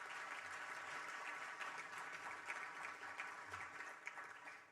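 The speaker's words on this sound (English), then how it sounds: "Let's give them a round of applause." Steady applause from a conference audience for a three-person panel at a space port economy session, a dense even wash of clapping throughout at moderate distance.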